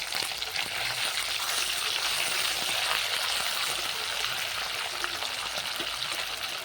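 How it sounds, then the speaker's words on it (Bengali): River fish frying in oil before it goes into a curry crackles and spits in a dense, continuous hiss that stays level throughout, with no voices. "মাছটা ভালোভাবে একটু ভেজে নেব"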